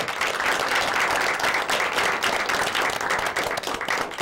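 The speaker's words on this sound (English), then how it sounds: "let's have a round of applause for Mr. Vincent Cotullo" Thick, continuous applause from a crowd fills the space, a loud, even roar of many hands clapping together without pause.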